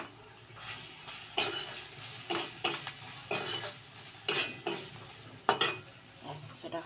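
Kashmiri red chili and cumin powder are stirred in a frying pan: a spoon scrapes in repeated, evenly spaced strokes over a quiet, low sizzle, close and fairly soft.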